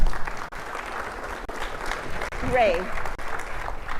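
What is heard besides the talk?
audience applause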